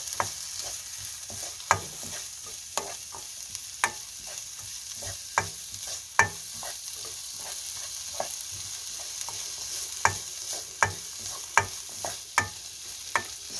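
Green onions and hot green peppers frying in a pot for soft tofu stew, a steady sizzle broken by repeated sharp scrapes and clacks of stirring at an irregular rhythm, close and alone.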